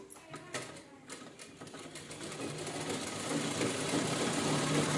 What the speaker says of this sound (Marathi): तर एका साईडने स्टिच करून घेऊया म्हणजे बरोबर आपल्या क्लिअर येईल